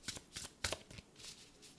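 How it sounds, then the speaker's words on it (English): Overhand shuffling of a playing-card deck: several quick riffling bursts of card flicks in rapid succession, close and fairly quiet, with no voices. "But this is how it shuffles."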